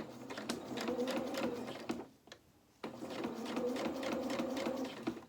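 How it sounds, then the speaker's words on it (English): A sewing machine stitches a tight curve in fabric with a fast, even mechanical whirr. It runs in two bursts separated by a short pause, close and moderately quiet. "So quite a tight curve here, so we'll just do a couple of stitches at a time and then just keep turning it."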